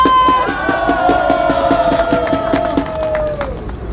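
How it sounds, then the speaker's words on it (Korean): A political rally crowd at Gangnam Station cheers and claps in a steady rhythmic beat, with a sustained droning tone over the loud, continuous noise of the crowd. "다시 한번 큰 박수 부탁드립니다"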